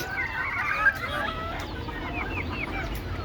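Several native village chickens cluck and chatter close by as they are shut into their coop, a steady overlapping flock murmur with short higher calls, no talking.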